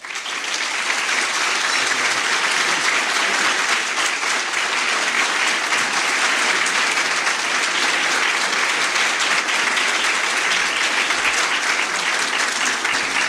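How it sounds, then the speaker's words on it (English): A luncheon audience at a Texas State of the State event gives sustained, loud applause, a dense even wash of clapping holding steady for over ten seconds with no talk over it. "let's give him another round of applause"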